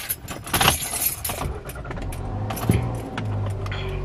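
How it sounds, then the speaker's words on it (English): A car drives along with its windows down, with steady road and wind rush filling the cabin, a light metallic jingle like keys near the start, and a brief knock partway through. "Car going. Windows down."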